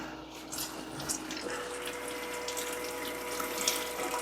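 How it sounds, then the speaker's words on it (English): Water sprays steadily from the nozzle of a CleanSense bidet toilet seat, a continuous close hiss and splash with brief spurts and a faint pump hum underneath, no speech. "So water should spray out of here."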